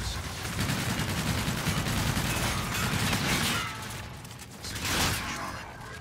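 Sustained rapid gunfire from an overpowered NV4 rifle in Call of Duty: Infinite Warfare multiplayer, dense and loud through most of the clip, thinning near the end with a final short burst.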